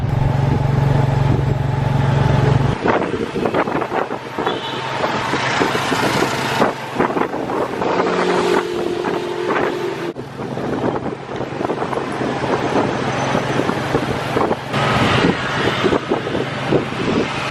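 Tuk-tuk rolling through busy Phnom Penh city streets, with a loud continuous rush of wind buffeting the microphone over engine drone and surrounding traffic, steady throughout.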